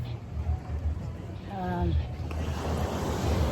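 Sea waves washing on the shore at a beach, a steady low surf rumble with gusty wind noise on the microphone, and a brief voice partway through.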